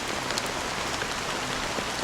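Steady rain in the video game Honkai: Star Rail patters densely on a surface, an even hiss of drops with no voices or other sounds.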